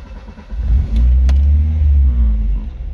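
A used Toyota Starlet with a 1300 cc engine cranks briefly and catches, then settles into a loud, steady low rumble close by. The car has 221,000 km on the clock.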